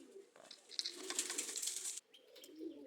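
Madrasi pigeons cooing in a loft, a steady murmur of soft, low coos running close by and overlapping, with brief chirps and faint rustling over them.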